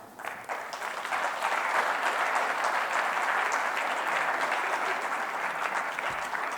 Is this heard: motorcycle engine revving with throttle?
no